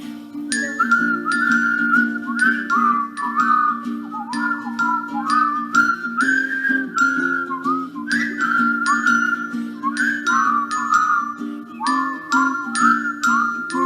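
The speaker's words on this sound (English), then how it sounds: "You whistle a while and I'll whistle a while, and we'll whistle a while together" A whistled melody of the children's song "You whistle a while" at a baby storytime carries on steadily, bright and close, several notes weaving together over a constant low drone and light tinkling accompaniment.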